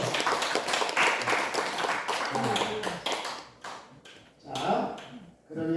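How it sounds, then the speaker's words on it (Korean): A church congregation claps after a deaconess appointment, with scattered, uneven applause that rises, dips and swells again at close to moderate level. "박수 한번 해주세요"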